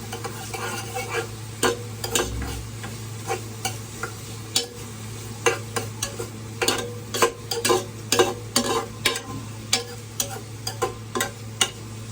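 Spatula scraping and stirring ingredients in a frying pan for a Filipino gisa sauté, with a steady sizzle under repeated close metallic strokes.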